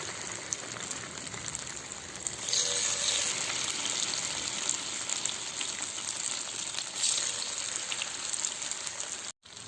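A medium-sized seer fish (anjal) fries in a pan with a steady, close hiss and crackle that swells louder partway through and runs on alone.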